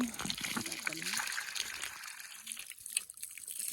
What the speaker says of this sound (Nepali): पानी आउँछ होइन अनि यस्तैबाट खाने हो